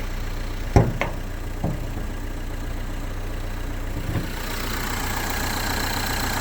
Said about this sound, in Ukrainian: Чиста робота двигуна, ніяких нарікань.